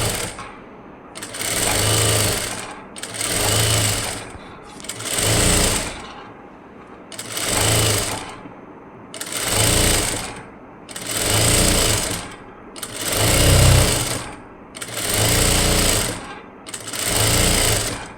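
A sewing machine stitches the folded neckline edge of a lined blouse in short regular bursts, about nine loud rhythmic runs with brief quiet gaps between them, close and alone.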